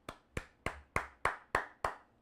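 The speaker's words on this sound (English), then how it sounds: "Can I just give a little bit of a round of applause to my viewers" Seven sharp, evenly spaced hand claps, close and fairly quiet, like one person slowly clapping alone.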